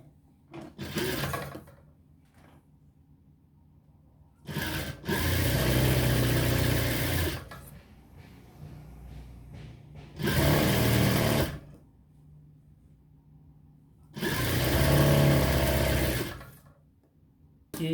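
An electric sewing machine stitches a decorative neckline on fabric in four separate whirring bursts of about one to three seconds each, with quiet pauses between them.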